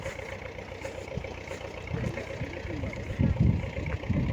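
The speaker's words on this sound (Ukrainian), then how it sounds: "Тракторець щось так повільно їде." A small tractor hauling a load slowly uphill on a mountain track, its engine a low steady chug at moderate distance that swells slightly toward the end, with faint voices nearby.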